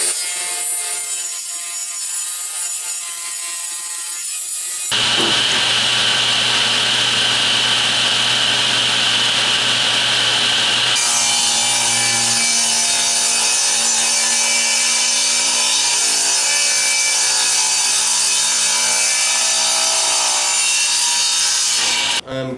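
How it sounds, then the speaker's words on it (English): A table saw with a featherboard rips wooden trim for a mid-century modern coffee table tabletop, giving a loud, sustained whine that shifts pitch as the blade enters and works through the wood, with no talking. "I've got a feather board set up on the table saw, and I'm gonna start cutting the trim that'll go around the tabletop."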